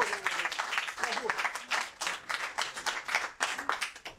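Applause for Jalissa at a Cheikh Anta Diop Day event, uneven clapping from a modest group with distinct individual claps pulsing and rising and falling.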